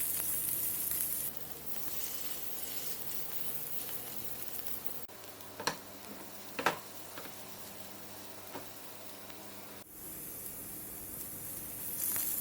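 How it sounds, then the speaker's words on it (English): Soya nugget seekh kabab skewers frying lightly in hot oil in a pan, a soft steady sizzle with a few faint clicks and taps from handling, no talk. "Heat some oil in a pan and lightly fry the skewers."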